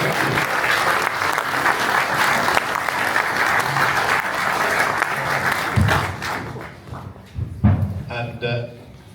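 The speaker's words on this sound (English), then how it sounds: "if you'd like to give everybody a round of applause" Loud, sustained clapping from an audience at a mayoral hustings in Doncaster fills most of the clip, then fades out as a few thumps and voices follow.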